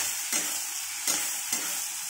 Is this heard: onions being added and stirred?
yes